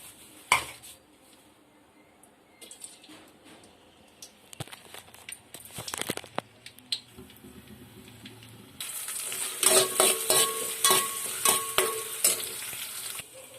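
Chopped onions are tipped into a hot pan on a home stove, first with scattered clinks of utensils and cookware, then a loud, bright sizzle that erupts and stirs on steadily near the microphone.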